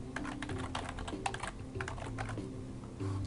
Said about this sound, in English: You'll hear me typing, sorry.